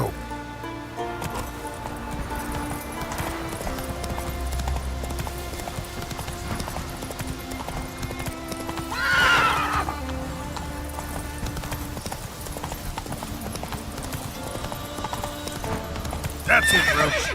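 Roach the horse galloping in The Witcher 3: Wild Hunt next-gen edition, with rapid rhythmic hoofbeats throughout, two loud whinnies around the middle and end, and game music beneath.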